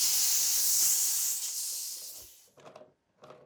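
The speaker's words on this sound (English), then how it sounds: "We just got our pump sprayer all set up for rinseless washes and waterless washes" Handheld pump sprayer filled with rinseless car wash solution hisses in a strong, steady spray for about two and a half seconds, then gives two short, quieter bursts.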